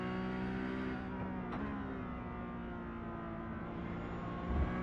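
A race car engine in a video game holds a steady, smooth drone under progressive throttle, its pitch rising only slightly with a brief whoosh midway and no voices.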